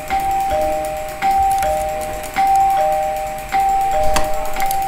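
Repeated doorbell ding-dong chimes in the Minecraft modpack Crazy Craft, four bright two-tone rings spaced about a second apart, loud and clear with no talking.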